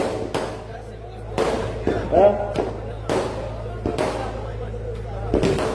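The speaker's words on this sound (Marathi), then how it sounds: "फटाके" Firecrackers burst in a steady series at a protest in Patkul village, sharp loud cracks roughly once a second, each with a short rumbling tail over a low background hum.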